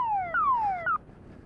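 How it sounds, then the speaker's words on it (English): Two quick descending electronic alarm chirps sound near a 2020 KTM 300 XC TPI dirt bike, each a falling tone, followed by quiet ambience. "Holy shit, fucking alarm."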